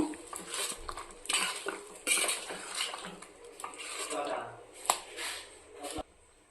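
A spoon scrapes and clinks against a pan in irregular strokes as brinjal masala curry is stirred, close by, with a faint sizzle underneath and a voice talking.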